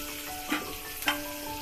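Cumin seeds, curry leaves, green chili and asafoetida sizzle in hot oil for jeera rice, a steady close crackling hiss with two brief louder spits.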